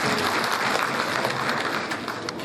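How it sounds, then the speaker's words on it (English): Audience applause at a graduation ceremony: a dense, steady wash of many hands clapping together, loud and sustained for the whole stretch without a break. "Please give me a round of applause."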